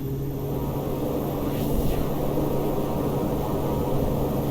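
Simulated airplane engine in reverse beta thrust backing the aircraft up in the X-Plane flight game, a steady loud droning roar with a brief swell partway through.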